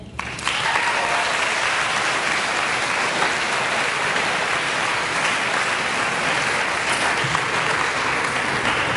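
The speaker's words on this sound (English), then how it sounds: "So another round of applause for all our speakers today." Loud, sustained applause from a large crowd at a poetry slam competition, steady clapping filling the room for several seconds without letting up.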